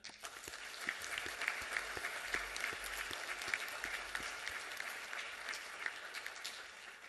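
An audience at the Golden Horseshoe Day 2021 event in the West Virginia Culture Center gives a round of applause, a steady crowd of many hands clapping at an even level, heard from some distance in the hall.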